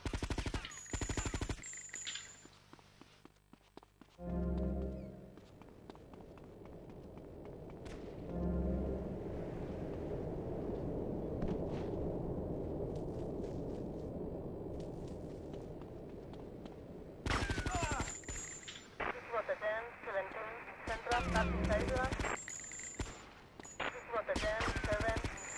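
Gunfire in Grand Theft Auto Vice City during a gun fight, sharp shots at the start, then a long stretch of sustained rapid fire with a steady roar, and more bursts near the end with voices in between.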